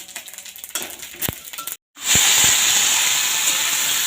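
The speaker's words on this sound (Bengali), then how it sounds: "লঙ্কা ভাজা হয়ে গেছে এরপর আমি ফোড়ন দিয়ে দিলাম" Whole tempering spices drop into hot oil after fried chilies, first a few faint clicks and pops, then a loud burst of continuous hissing sizzle that carries on steadily.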